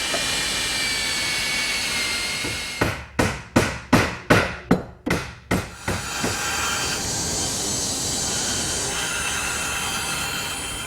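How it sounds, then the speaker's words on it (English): Roughly ten sharp, evenly paced hammer blows drive a glued mortise and tenon joint together on a wooden Windsor chair, loud and close against steady background noise, with no talking. "I just drive it in with a hammer."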